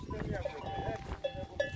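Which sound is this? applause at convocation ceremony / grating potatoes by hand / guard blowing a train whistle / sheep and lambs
sheep and lambs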